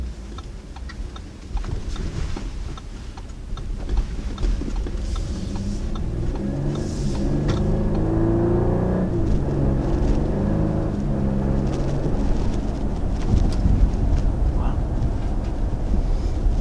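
A 2019 Audi Q8 SUV in dynamic drive mode, its engine and exhaust droning steadily from inside the cabin as it accelerates through gears, with a continuous low rumble and some faint ticking.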